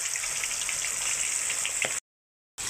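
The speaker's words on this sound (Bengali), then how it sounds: "এখন মাছের মাথাগুলো আমি এইদিকে ভেজে নিচ্ছি" Fish heads fry in hot oil with a dense, crackling sizzle close by, a brief spatter, then a short gap before the hiss resumes.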